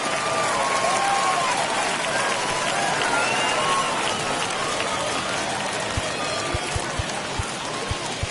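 A stadium crowd in the MLB The Show 21 baseball video game roars and cheers continuously, a dense wash of noise with scattered whistles, joined late by a few soft low thumps.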